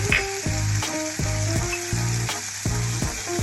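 Spice paste of onion, ginger and green chili sizzles and crackles in hot oil, a steady close frying hiss broken by rhythmic stirring scrapes.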